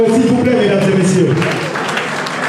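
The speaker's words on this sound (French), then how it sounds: "Est-ce qu'on peut applaudir pour eux, s'il vous plaît, mesdames et messieurs?" Applause rises from a gala evening audience as a host's voice trails off, then the clapping carries on alone, fairly loud and close.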